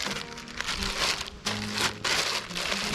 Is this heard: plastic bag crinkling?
yes